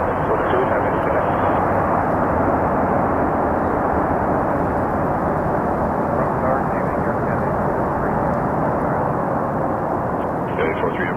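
A plane takes off from Toronto Pearson Airport as a loud, steady engine roar that holds for the whole stretch, with radio chatter faintly in the background.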